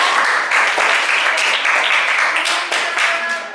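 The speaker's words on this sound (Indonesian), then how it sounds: "Berikan aplaus dong untuk orang yang ya" Classroom applause from a group of students, steady sustained clapping filling the room for a few seconds at close range, fading slightly at the end.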